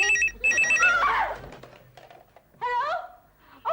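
A telephone bell rings in repeated trilling bursts that are close and loud. Short gaps of background sound fall between the rings, and a faint sound that may be laughter comes in early.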